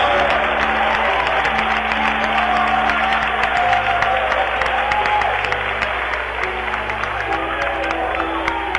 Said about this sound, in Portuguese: batam palmas e glorifiquem a Jesus